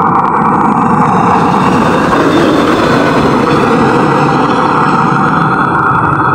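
Pasundan passenger train rolling past on the rails at a level crossing, a loud, steady broadband roar of wheels and wagons that fills the whole stretch without letup.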